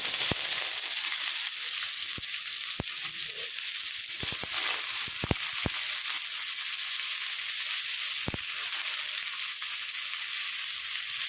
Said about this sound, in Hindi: प्याज को हम हल्का सा सुनहरा होने तक भून लेंगे।